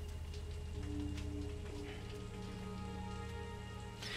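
Timefall rain in the Death Stranding video game, a steady dense patter under a soft tonal music drone, constant throughout with no voices.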